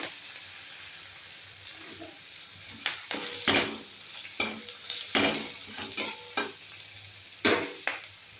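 Sliced onions and split green chillies fry in hot oil in a pan. A low, steady sizzle is broken by several sharp bursts as the pieces are stirred and tossed, with no talking.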